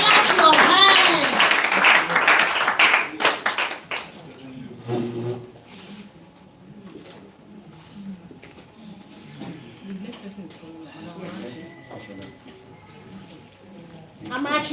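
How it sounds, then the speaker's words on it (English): A crowd claps loudly and steadily for the first few seconds, then the applause fades into a murmur of distant voices and background chatter. "And clap your hands. Clap your hands."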